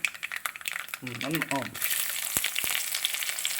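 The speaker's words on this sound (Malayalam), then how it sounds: "ഇതിലോട്ട് ചെറിയ ഉള്ളി ഇട്ട് കൊടുക്കുന്നു" Shallots drop into hot oil with popping mustard seeds for a Kerala clam roast, setting off a loud, steady broadband sizzle that swells and holds to the end, after a brief voiced sound and a few sharp clicks.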